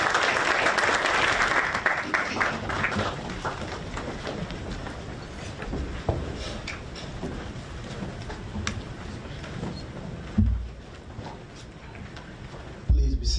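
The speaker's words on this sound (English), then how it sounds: "Another round of applause for His Excellency the President" Sustained applause from an audience at a formal ceremony where a health funding cheque was presented to the President of Sierra Leone, dense continuous clapping that gradually thins, with brief bumps near the end.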